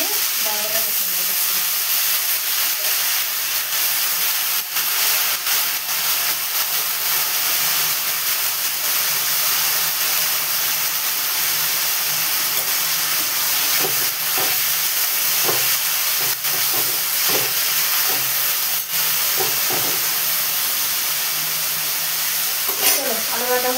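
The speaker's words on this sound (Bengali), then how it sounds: "চলো আলু ভাজা হোক" Sliced potatoes fry in hot oil in a home kitchen pan, a loud steady sizzle and hiss punctuated by scraping clicks from stirring, with speech occasionally heard.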